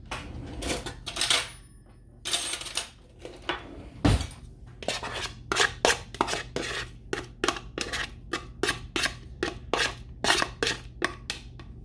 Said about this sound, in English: I had one Roma tomato, so I want to go ahead and chop that up